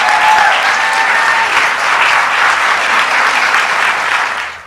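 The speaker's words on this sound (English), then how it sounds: "Let's give Sarah a big round of applause." A large audience bursts into loud, sustained applause at a political event, dense clapping that holds steady for several seconds before cutting off.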